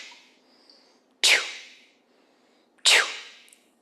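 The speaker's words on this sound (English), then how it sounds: "The force level breath sounds like this." Two sharp, forceful breath exhales, each a sudden hissing burst that fades quickly, separated by a pause of about a second and a half.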